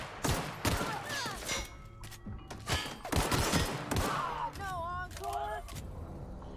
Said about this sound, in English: Nearly got Pravati with one shot, but that's fine-ish